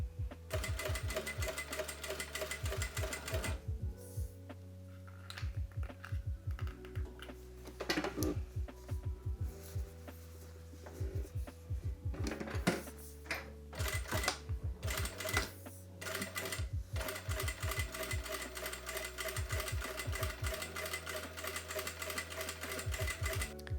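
A sewing machine runs a regular straight stitch down a skirt seam, its rapid mechanical chatter coming in long bursts separated by short pauses, close and clear with no talking.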